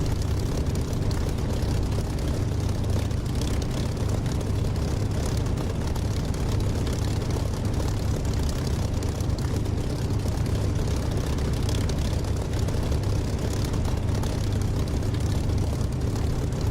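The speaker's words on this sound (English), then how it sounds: "So I'm going to cut the engine at the very least." Aircraft engine running in the DCS flight simulator game, a steady, loud low droning hum with a constant propeller-like rumble that holds unchanged throughout, with no voices.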